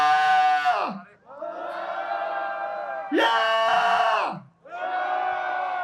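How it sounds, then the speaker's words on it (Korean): A protest rally crowd of Korean healthcare workers roars a long unison shout in repeated loud surges, each swell rising sharply and trailing off before the next. "다 같이 한번 함성을 외쳐보겠습니다"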